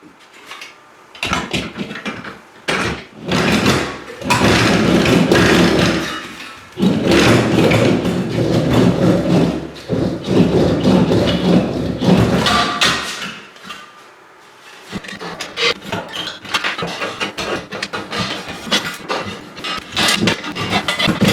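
Steel sheet being hammered into a dished shape for a Suzuki Hayabusa motorcycle wheel, the dents worked in a spiral toward the middle: dense, rapid metallic thuds in loud sustained runs, broken by brief pauses, close by with no talking.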